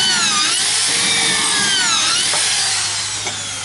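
A drill fitted with an ARTU multi-purpose carbide bit bores into concrete, giving a loud, steady grinding whine that holds for several seconds without pause and sits close to the listener.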